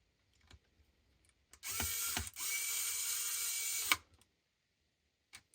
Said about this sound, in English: Let me put one screw just to hold it first.